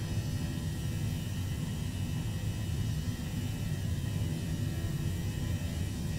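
Airbus A321 jet engines on the takeoff roll in a flight simulator give a steady, loud, broadband roar with deep rumble and whir, continuous and close throughout, with no talk over it.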